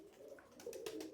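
Bukhara pigeons cooing in a soft, low, rolling murmur that grows a little louder toward the end, with a few brief rustling bursts and no talk.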